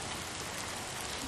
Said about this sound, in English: before taking his leave with the blessings of Yaoundé's torrential rainfall.